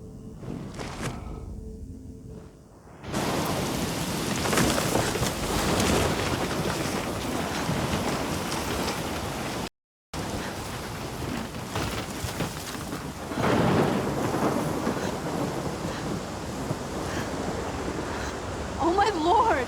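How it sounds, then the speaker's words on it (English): A heavy thunderstorm in the video game Life is Strange, set in Oregon, roars with dense rain and gusting wind, a steady loud rush broken by a brief dropout and rumbling surges. "I've never seen a storm like this in Oregon."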